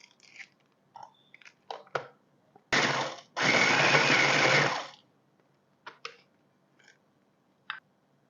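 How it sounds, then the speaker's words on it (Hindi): An electric kitchen chopper grinds Oreo biscuits into crumbs in two loud, close bursts: a brief pulse, then a sustained whirring grind of about a second and a half. Soft taps and handling knocks come before and after. "ओरियो बिस्किट को मैं चॉपर में चॉप करूँगी।"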